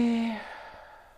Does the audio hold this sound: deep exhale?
yes